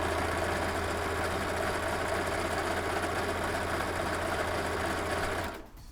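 Serger stitching a narrow rolled hem on a scrap of medium-weight fabric, a loud, steady mechanical whir that runs continuously and then stops abruptly near the end.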